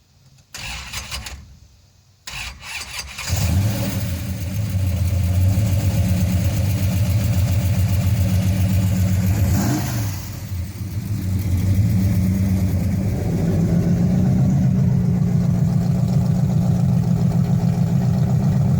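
A few sputtering cranks, then a 1968 Hemi car engine catches with a deep rumble and settles into a steady, throaty idle, close by, with a couple of light revs.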